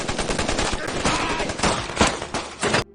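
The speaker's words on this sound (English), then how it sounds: "A gunfight ensues, with the Bloods managing to kill Desroche's men." Gunfire from a movie shootout between a gang and armed men rattles in dense, rapid automatic bursts, loud and continuous, then cuts off abruptly.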